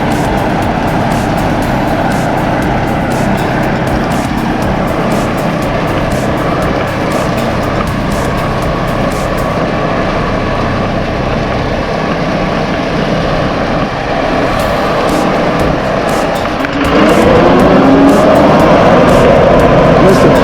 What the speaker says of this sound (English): turning up the throttle for the first time on his RCT&M cutter